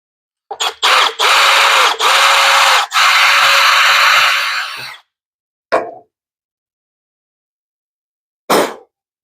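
Drill boring through a protective piece for Ferrari F430 header blankets, several short bursts then a sustained whine of a few seconds, followed by two brief isolated noises after silence.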